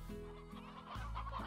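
Video-game chickens in Slime Rancher cluck and bawk in short, close, tonal bursts, with a rooster among the farm fowl.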